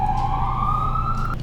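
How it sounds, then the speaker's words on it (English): An emergency vehicle siren passing on a Bronx street, a loud steady tone sliding slowly upward over constant low traffic rumble, cutting off near the end. "Let's wait for this siren to go by."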